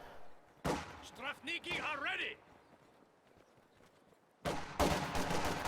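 Bursts of rifle fire from Grenadier infantry in a real-time strategy battle, one sharp volley early and a denser crackling burst near the end, with a voice talking loudly between the shots.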